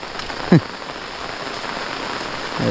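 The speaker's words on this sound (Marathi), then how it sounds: "एवढा पाऊस पडतोय" Heavy rain pours down steadily in a village, a dense, continuous hiss close by with a brief clatter early on.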